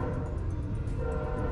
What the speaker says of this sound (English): a place where the train runs right through the middle of town.